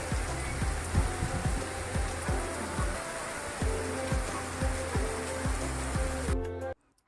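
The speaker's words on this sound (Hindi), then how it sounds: "इतनी घमासान बारिश हो रही है वहाँ पे।" Heavy rain pours down in a constant dense wash, loud and close, with some rhythmic tapping mixed in before the sound cuts off abruptly at the end.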